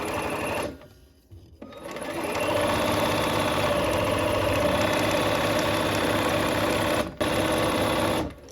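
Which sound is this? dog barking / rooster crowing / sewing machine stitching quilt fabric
sewing machine stitching quilt fabric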